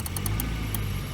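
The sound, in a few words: Volvo 240 engine running, put in gear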